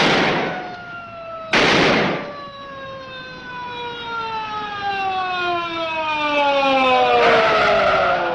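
A police chase car skids with a long, loud tire screech that slides slowly downward in pitch, cut by a sharp burst near the start and a rising rush of noise at the end, over a low engine rumble.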